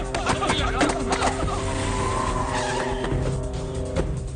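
A car pulls away fast with its tires squealing, a loud continuous screech and engine roar lasting several seconds, with voices mixed in.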